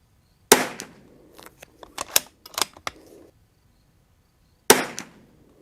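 Rimfire rifles firing Eley Club ammunition, comparing a Zermatt RimX and a Winchester 52: two sharp, loud shots several seconds apart, with a burst of mechanical clicks from working the bolt in between.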